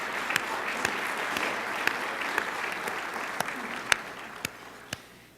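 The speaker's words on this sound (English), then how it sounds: "I'd like us to give them a big round of applause." An audience at a conference breakfast applauds the Fort Worth Symphony, a steady wash of clapping at moderate distance with a few sharper individual claps standing out.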